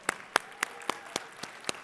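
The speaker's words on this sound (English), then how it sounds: "Give them a big round of applause." Applause at a NetApp INSIGHT 2024 keynote: seven sharp, evenly spaced claps about a quarter second apart, moderately loud and dry, with no talk over them.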